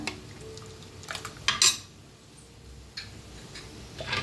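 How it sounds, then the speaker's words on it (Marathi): A spoon stirs soft cooked dal in a pot for spicy village-style varan phal, giving a few scattered scrapes and clinks with brief bright knocks against the metal, close by and fairly quiet. "अशी एकदम मिक्स करून घेते म्हणजे काय शिजली नसली तरी बी शिजते अशी"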